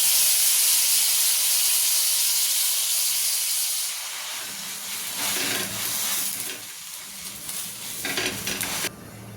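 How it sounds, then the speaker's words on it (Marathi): Pav bread toasts in butter with bhaji on a hot pan, a loud close hiss and sizzle that shifts midway into busier frying with scraping stirs and clinks. "पाव भाजायला आधी थोडं बटर टाकून घ्यायचे त्याच्यामध्ये थोडीशी आपली पावभाजी टाकून घ्यायची"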